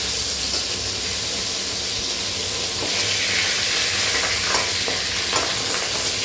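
Pieces of wallago fish fry in hot oil with a loud, dense, continuous sizzle, while a few soft scrapes and clicks mark the pieces being turned one by one.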